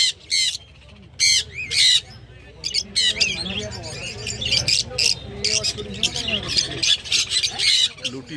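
Zebra finches call in sharp, repeated nasal chirps and squawks, loud and close, scattered in bursts over a busy background with voices talking.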